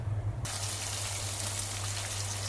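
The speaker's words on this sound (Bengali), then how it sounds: "পেঁয়াজ কুচি অ্যাড করে এটাকে আমি হালকা ব্রাউন করে ভেজে নেব" Chopped onion sizzling in hot oil in a pan, a steady, dense hiss that starts abruptly and continues evenly without talk.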